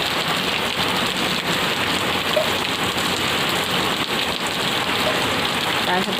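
Heavy rain pours down in a steady, dense roar, loud and continuous throughout with no pauses.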